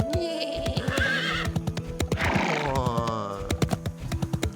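A horse in the open-world MMORPG Bless Eternal gives a loud, close whinny, then a second shrill neigh, over rhythmic clip-clop hoofbeats that continue to the end.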